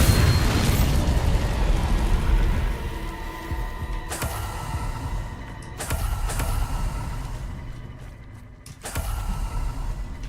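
The Bombarda blasting spell in Hogwarts Legacy sets off a series of booming explosions, with three or four sharp bursts over a continuous rumbling, creaking background, one after another at uneven intervals.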